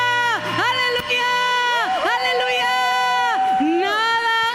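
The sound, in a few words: congregation applause and shouts of joy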